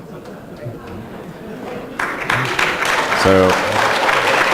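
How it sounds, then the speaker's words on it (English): Applause breaks out at a public utilities committee hearing, starting faintly, then swelling into fuller clapping midway, with a brief spoken word and murmuring voices underneath. "one more applause"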